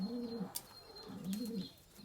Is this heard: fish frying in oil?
no